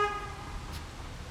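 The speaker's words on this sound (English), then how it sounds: "Somebody honking by." A single short car horn toot sounds right at the start, outdoors on a street, then gives way to a low steady traffic rumble with no talking.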